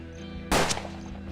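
A single sharp gunshot in the Weird West tactical game Hard West, a loud sudden blast with a short decaying tail over a low, steady background hum.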